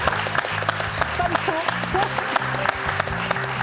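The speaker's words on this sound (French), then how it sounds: "Applaudissements pour Aline quand même." Steady applause from the studio audience of a French TV quiz show, a continuous close patter of clapping with a voice and low background music running beneath it.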